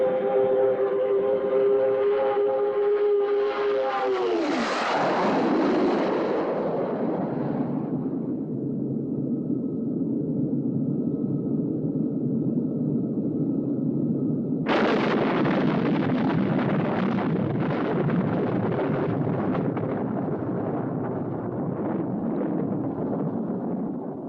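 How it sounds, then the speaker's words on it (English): Goliath exploding in a Captain Scarlet and the Mysterons episode: a loud roaring blast that rises in pitch then sinks into a rumbling tail, followed by a second sharp burst and long crackling roar. "Goliath is going to explode."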